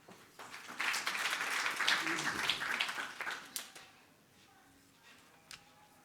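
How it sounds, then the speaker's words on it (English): Clapping swells from a conference audience welcoming a panel on gender, human rights and the environment, strongest for about two seconds, then thinning to scattered claps and fading into near quiet. "can we please, with a round of applause, welcome our panel that has already joined us."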